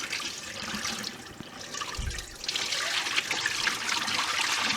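Cheese curds and whey being poured into a cheesecloth-lined strainer for squeaky cheese curds, a steady close rush and trickle of liquid, loud and continuous, with a soft thump partway through.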